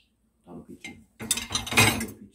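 Cups and plates being stacked into a dishwasher in a family kitchen in the UK, a short burst of clinking and clattering crockery after a few soft knocks, with a voice nearby.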